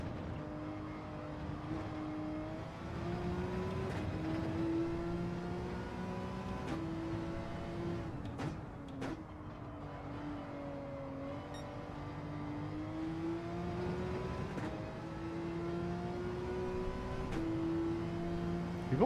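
A Porsche race car engine in Gran Turismo 7 drones steadily through an online race, with its pitch rising through each gear and dropping sharply at repeated upshifts, plus a couple of brief clicks.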